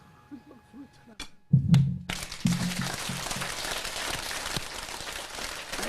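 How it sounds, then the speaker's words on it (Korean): After a few quiet seconds with a sharp thump, a congregation at a Korean religious gathering bursts into loud, dense clapping with raised hands, which carries on as a steady, sustained roar. "눈 감고 하늘 앞에 양손을 들어 큰 박수로 쳐라"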